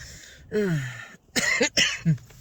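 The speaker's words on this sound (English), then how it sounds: "Still coughing." A person coughs a few times up close, with a hoarse, throaty rasp between harsh bursts.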